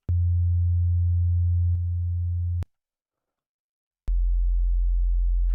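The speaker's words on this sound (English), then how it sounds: "if I were to take just the second harmonic, this is actually going to be 12 semitones, or rather an octave, higher than the first harmonic" Pure sine tone of a bass note's second harmonic, an octave above the fundamental: a smooth, low, steady hum that shifts slightly partway, breaks into silence, then returns, with no voices.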